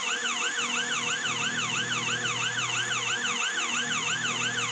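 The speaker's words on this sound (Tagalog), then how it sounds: "May pulis na be akong naririnig." A police siren wails outside in a continuous, rapidly repeating yelp, steady and fairly loud with no voices over it.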